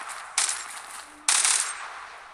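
Gunfire in the online shooter game Zula: two bursts of rapid automatic fire, each starting abruptly and then trailing off, over a steady background hiss, with no talk.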